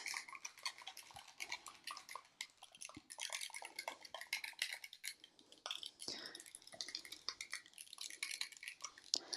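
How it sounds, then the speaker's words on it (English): Homemade lotion being whisked in a container, giving a steady run of quick, close clinking and tapping strokes against the vessel sides, busy and continuous with no voices. "Whisk, whisk, whisk."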